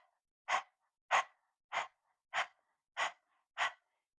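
Rapid panting breaths during a kundalini yoga kriya, six sharp, evenly spaced exhalations about half a second apart, close and clear with silence between them, like a panting dog.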